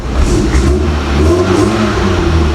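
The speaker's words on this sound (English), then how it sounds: "You have to give it a few revs and then eventually like idles on its own" A cold car engine with a carburetor being revved, a loud, continuous, close rumbling roar that rises and falls slightly in pitch throughout.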